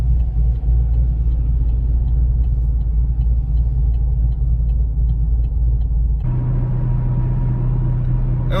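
2010 Chevrolet Camaro SS V8 fitted with a TSP cam and headers, a deep, lumpy idle rumble, loud and close, shifting to a heavier, steadier tone near the end.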